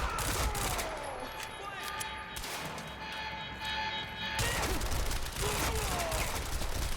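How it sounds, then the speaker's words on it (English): Rapid gunfire hits a wall in the video game Quantum Break, a dense burst of shots and impacts that carries on through the stretch with a brief easing in the middle, while someone talks over it. "Is that dude shooting at the wall?"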